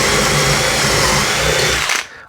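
Power drill boring a vertical dowel hole in timber, a loud, close, steady motor whir with a rough grinding edge that holds for two seconds before cutting off abruptly.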